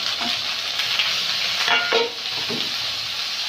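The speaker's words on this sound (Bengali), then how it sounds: "এবারে টমাটো আর ধনে পাতাটা দিয়ে দেবো।" Tomato and coriander leaves fry with spices in hot oil in a wok, a close, steady sizzle broken by brief scrapes and bursts as the mixture is stirred.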